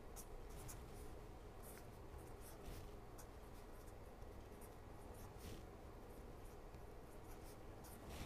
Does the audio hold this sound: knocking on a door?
no